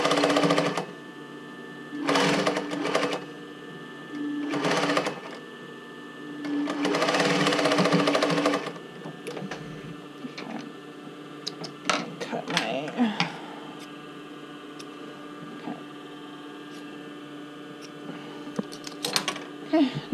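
A sewing machine stitching elastic onto a swim top band, running in several short bursts and one longer run, then lighter intermittent clicks and handling, with the mechanism's steady hum throughout.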